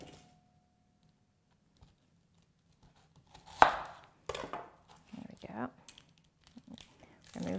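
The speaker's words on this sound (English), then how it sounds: "I'm just going to slice them up with our simple slicer on the number 3 setting." Onions being sliced on a mandoline slicer set to number 3, heard as a few sharp, irregular crisp chops and crinkly scrapes after a quiet stretch, close by.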